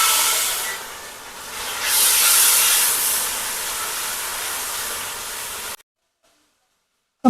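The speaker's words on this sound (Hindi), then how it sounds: "अब इसमें डालेंगे हम थोड़ा सा पानी" Water poured into a hot pan of garlic and spices hisses and sizzles loudly and continuously, swelling briefly before cutting off abruptly into silence.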